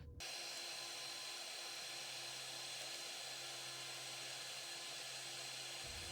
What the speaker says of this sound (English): I will show you how I do under my hood dryer